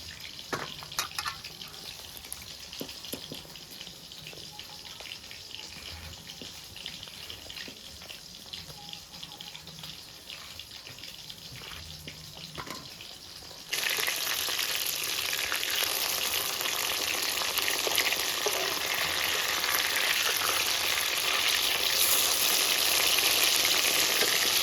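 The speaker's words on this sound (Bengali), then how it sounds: "হাতে তেল ছিটছে।" Hot oil sizzles and spatters as fish, rohu for a mustard and poppy-seed curry, fries in a home kitchen; a softer crackle swells about halfway through into a loud, dense, steady sizzle, with no talking.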